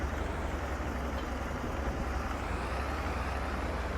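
Steady low engine drone of a tractor in Farming Simulator 22, a continuous idling rumble with no change in pitch or level throughout.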